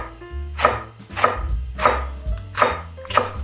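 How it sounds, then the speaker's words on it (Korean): A knife chops Cheongyang chili peppers on a cutting board in five distinct, evenly spaced thuds, close and clear over faint background music, with no talk. "청양고추 3개만 썰어주세요."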